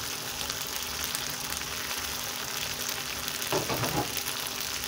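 Egg curry being stirred in a frying pan gives a steady, close sizzle with soft scraping and stirring throughout, a few louder clatters near the end, and no voices.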